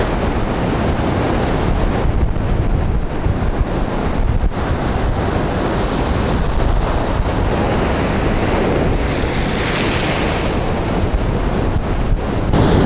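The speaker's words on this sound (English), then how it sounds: "Standing by the edge there taking those photos, and a wave hit" Ocean waves breaking hard at the shore's edge, a loud continuous roar of surf and spray with heavy wind buffeting the microphone throughout, no voices.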